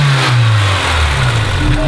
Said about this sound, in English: Let's let the car get to temperature and let's rev it a bit